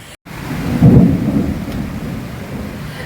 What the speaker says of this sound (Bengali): শুনতে পারছো থান্ডারিং প্লাস তুফান